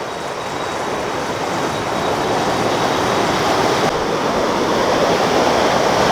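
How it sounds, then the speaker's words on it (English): Ocean waves breaking on a rocky Hawaiian shoreline while fishing, a loud, steady wash of surf filling the whole stretch close by with no pauses. "Right next to the waves."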